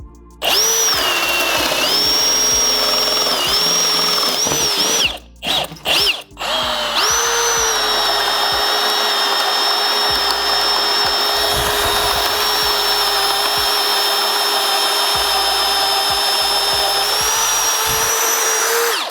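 A Milwaukee M18 FUEL Super Hawg cordless right-angle drill bores through wood with a loud, steady motor whine, briefly stopping and restarting after a few seconds, then running continuously under load with no talking.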